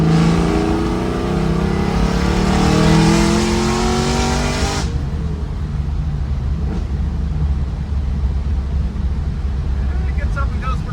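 Truck accelerating hard through the gears, a loud rising engine roar that climbs in pitch then drops off abruptly at a shift into third gear, followed by quieter road and cabin noise.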